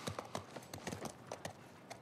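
Horse hooves clip-clop in The Last of Us Part 1, a steady series of crisp, moderately close hoofbeats in an uneven walking rhythm with no talk over them.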